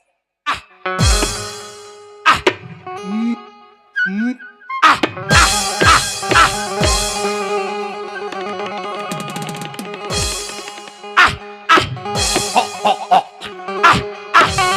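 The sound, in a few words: person imitating a growling dog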